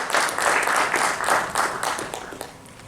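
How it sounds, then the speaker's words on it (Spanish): An audience applauds a speaker at a cultural presentation in Quillota, Chile, with loud, steady clapping that swells in pulsing waves and then gradually thins out. "Le brindamos un aplauso"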